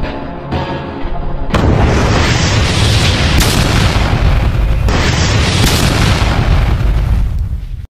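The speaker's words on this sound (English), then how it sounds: "Fire the missiles." Missiles launch and detonate in a massive roaring blast that starts abruptly after a brief lead-in, then sustains as a loud, dense rumble with layered booms for several seconds before cutting off.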